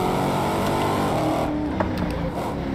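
A Dodge Charger Hellcat Widebody engine in the Assetto Corsa racing game, a loud, continuous, dense engine roar held at high revs for the whole moment, heard alone without talk.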